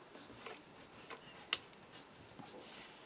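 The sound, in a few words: cutting paper card with trimmer or scissors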